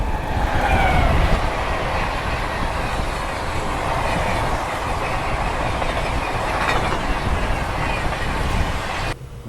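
Passenger train running at about 100 km/h on a dedicated freight corridor, a loud continuous roar of wheels and rails with steady clatter, close by, ending abruptly.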